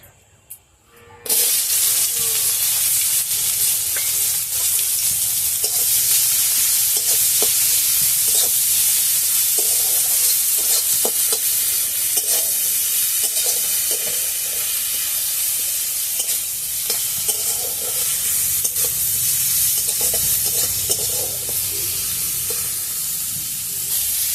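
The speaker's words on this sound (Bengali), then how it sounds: "তেলের মধ্যে কুচনো পেঁয়াজটা দিয়ে দিচ্ছি।" Chopped onions drop into a little hot oil and a loud, close sizzle bursts up after a brief quiet start, then crackles on steadily with scattered pops.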